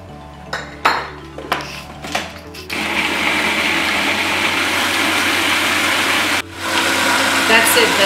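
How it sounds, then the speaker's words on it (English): A food processor chops tomato, starting with a few short pulses and then running in a loud, steady whir, briefly stopping and then starting again. "Now it's time to chop the tomato so I can add it to the meat."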